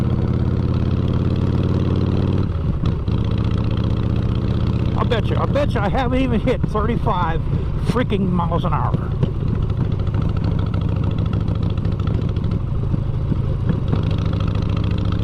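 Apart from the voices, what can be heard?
motorcycle engine while riding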